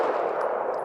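A single loud, close 9mm pistol shot firing OneStrike CQB self-defense ammunition, heard as a brief harsh blast that fills the moment.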